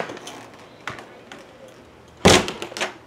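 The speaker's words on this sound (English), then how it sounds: "It sounded like someone was knocking on the door" Several irregular knocks on a door, a soft early tap, then a sharper thump and a louder cluster of raps near the end, heard fairly close over a quiet background with faint murmuring.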